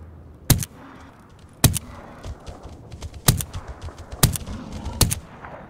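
Gunshots in the video game STALKER GAMMA: five sharp, loud cracks at uneven intervals, each dying into a brief rumble, with softer distant pops scattered between them.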